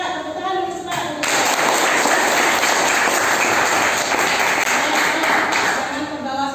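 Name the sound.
class clapping hands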